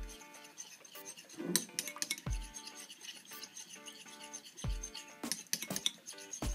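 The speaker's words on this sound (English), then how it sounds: "And then you're gonna stir it all together." A spoon stirs a pear dip with honey in a bowl, giving quiet close clinks and scrapes against the side in irregular bursts, with no voices.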